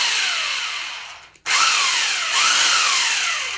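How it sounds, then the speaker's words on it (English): An electric drill whisks Artex plaster mix with a loud, whirring whine that cuts out briefly, then spins back up and keeps running steadily close by. "Here we go with the drill. It's going to be noisy and it whisks like this."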